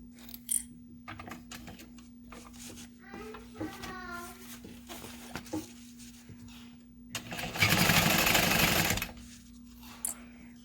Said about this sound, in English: we'll sew it with a 1/2 inch seam allowance